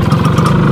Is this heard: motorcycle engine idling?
yes